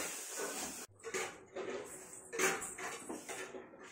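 Masala with Kashmiri chili powder and tomato sauce is stirred and sautéed in a pan, giving faint, intermittent scrapes and clinks of a utensil against the pan.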